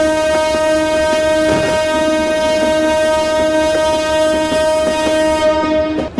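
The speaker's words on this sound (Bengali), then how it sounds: "আমরা একটু হর্ন দেবো" Train horn blaring as a steady, loud tone over the rumble of a running passenger express train in a Bangladesh train simulator game, with faint rhythmic clatter beneath and the horn sustained through the whole stretch.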